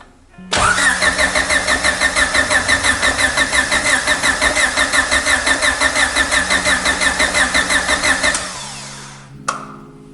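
A Honda B16 engine swapped into an EF hatchback cranks with a fast, even rhythmic starter chug for about eight seconds, then stops; close and loud, with a brief knock afterward.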